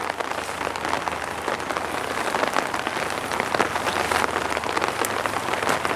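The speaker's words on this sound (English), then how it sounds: "even though it's pouring down rain today" Heavy rain pours down steadily, a dense hiss of drops drumming on surfaces with no break, no voices.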